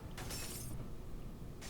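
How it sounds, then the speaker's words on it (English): Glass shattering in a video game after a thrown hammer hits it, a short, quiet burst of breaking glass, then a second brief crash at the end. "I held the hammer in my hands, faced the glass in front of me, and then threw it as hard as I could"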